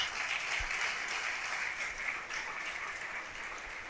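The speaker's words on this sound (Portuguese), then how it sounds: "Dê um aplauso a Jesus" A church congregation applauds together, a dense, steady wash of many hands clapping that fills the room at moderate loudness and slowly tapers, with no clear talking over it.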